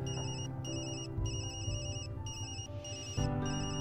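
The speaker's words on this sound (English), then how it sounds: "I know that's my work phone" Work phone ringing in the Tokyo Dark video game: an electronic ringtone pulsing in repeated short bursts with brief gaps, clear and moderately loud.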